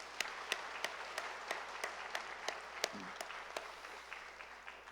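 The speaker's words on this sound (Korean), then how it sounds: "하나님 앞에 감사의 박수 한번 올려드리겠습니다" A church congregation at a Sunday Thanksgiving service applauds, a soft wash of clapping with a steady beat of sharper rhythmic claps running through it, fading slightly toward the end.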